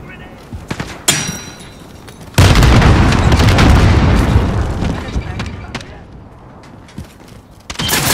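A grenade explosion in Modern Warfare 2019, preceded by a sharp pop, then a loud, close blast with a long rumbling decay, followed by scattered shots and another burst at the end.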